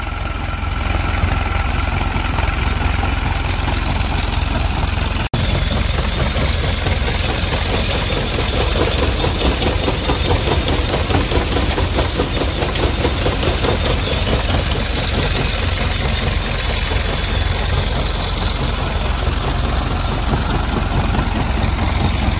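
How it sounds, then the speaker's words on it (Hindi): A tractor-driven machine sieving peanuts from soil runs steadily at low speed, giving a continuous loud engine drone with a knocking mechanical chatter and a faint squeal throughout, with no voices. "ये है दोस्तों, आराम से चलता है इसमें ट्रैक्टर 10 की स्पीड से।"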